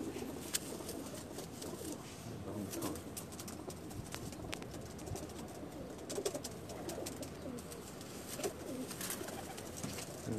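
Pigeons coo repeatedly in low, soft murmurs throughout, several birds close by on a rooftop in Jeddah, Saudi Arabia, with occasional rustles and sharp clicks in the background.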